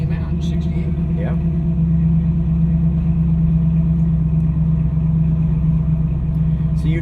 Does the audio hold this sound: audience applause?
no